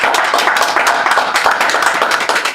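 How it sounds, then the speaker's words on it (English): An audience at the Poetry with a Purpose 2014 event gives the poets a loud round of applause. Many close, crisp hand claps blend into a lively, uneven patter that keeps going without a break. "All the poets, give yourselves a round of applause."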